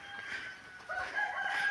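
A rooster crows loudly nearby in a village in Chiang Mai, Thailand, its drawn-out call rising and holding, with faint clucking of native country hens around it.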